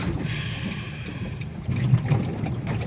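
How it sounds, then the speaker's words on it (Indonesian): Water surges and splashes against the body of a car driving through a flooded road in Purwodadi, a steady low rumbling wash with a heavier churning burst partway through, close and continuous. "Suara air menghantam bodi sudah kayak naik kapal ini saya"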